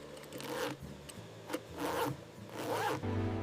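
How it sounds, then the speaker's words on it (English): A metal zipper on a leather jacket is tested in a factory, run open and shut in three rasping sweeps spaced about a second apart over low machine hum, close and fairly loud. "Both zipper sides are reinforced, then tested for smooth opening and closure."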